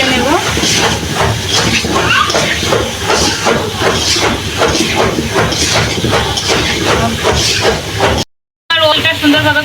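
Yam sautés in a pan for a Bengali fish dish, giving a loud, continuous sizzle and hiss with a faintly rhythmic stirring pulse, broken by a brief gap near the end.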